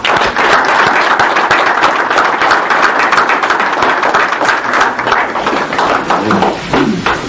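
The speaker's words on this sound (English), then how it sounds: "Let's give a round of applause." A crowd at a high school basketball signing ceremony gives a round of applause for scholarship signees, loud, dense clapping that runs steadily for several seconds before tapering slightly near the end.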